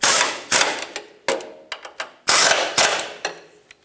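Ratchet wrench cranking down the 19mm fasteners on a 1996-2002 Toyota 4Runner front lower control arm, a close series of sharp metallic clicking bursts with short pauses between strokes, no talking.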